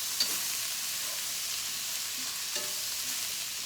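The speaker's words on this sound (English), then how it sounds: "We're going to fry this just a second." Cabbage with garlic frying in a hot pan, a steady bright sizzle close by with a couple of faint stirring touches, no voices.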